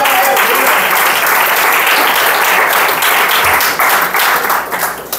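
A church congregation applauds loudly and steadily during a family worship service, a dense wash of clapping from many hands that holds for about five seconds and eases slightly near the end.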